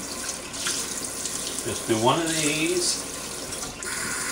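Lukewarm tap water runs into a sink for rinsing while a thrift-store vinyl record is cleaned, a steady broadband wash of flowing water under a person talking nearby.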